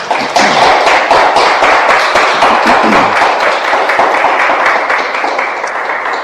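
A church congregation applauds loudly and close by, with steady overlapping clapping and some thumps. It continues for several seconds and fades slightly toward the end.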